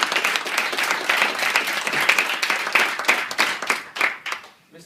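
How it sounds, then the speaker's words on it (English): An audience at a Toastmasters inauguration applauding, a dense burst of clapping that holds steady and then tapers off at the end. "let's give him a warm round of applause"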